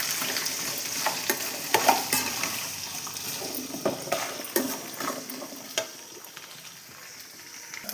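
Green chillies, cumin and salt fry in a pan for a coconut chutney: a steady sizzle with repeated scraping stir strokes and small clinks, close and moderately loud, with no talking.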